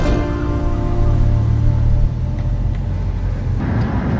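Steady low engine rumble and road noise from a motorhome cruising through rolling farm country, continuous and moderately loud with no voices.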